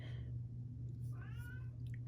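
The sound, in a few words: cat meowing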